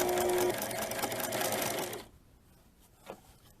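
Sewing machine stitching bias tape around the armhole of a baby dirndl, a fast steady whir close by for about two seconds before stopping abruptly, leaving near silence with a small click afterward.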